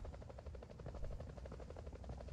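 A friendly helicopter in a multiplayer shooter video game whirs steadily with a fast rhythmic rotor chop that stays at constant loudness throughout, with no voices over it.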